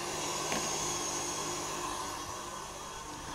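An electric mixer beats meringue for a raspberry and lime bavarois, a steady close whirring motor hum that holds without a break.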